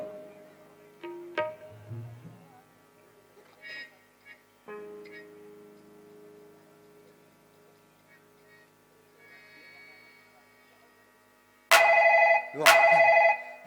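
An old-style telephone bell rings twice in two loud bursts near the end, after a stretch of quiet tones and light sounds.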